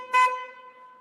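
A vehicle horn sounded on a special-service vehicle fitted with a rotating beacon: one short, loud, steady honk, then a tone that rings on and fades under a quiet background.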